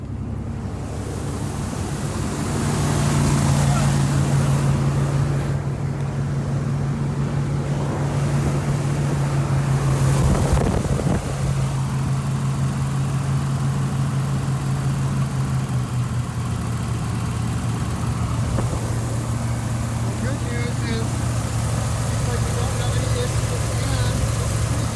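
GMC Syclone/Typhoon engine idling steadily after being fired up, a continuous low hum with a slight pitch drop partway through, with voices talking over it.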